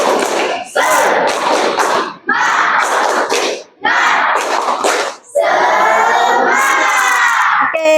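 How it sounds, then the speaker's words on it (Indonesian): Schoolchildren in a classroom performing a 'tepuk semangat' spirit chant, loud bursts of shouted unison voices mixed with sharp rhythmic claps and thumps, broken by brief pauses, close and energetic. "Ice breakingnya tentang tepuk semangat."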